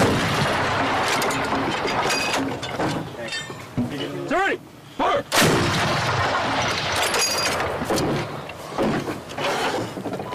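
M119 105mm howitzers of an airborne field artillery unit firing live rounds, with loud sharp booms breaking through continuous shouted commands and crew chatter on an outdoor firing line.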